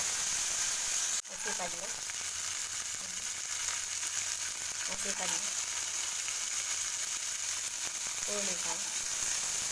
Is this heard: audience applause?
no